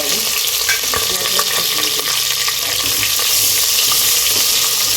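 Chopped large onion and spices frying in ghee and oil, a loud steady sizzle and crackle close up with occasional stirring clicks.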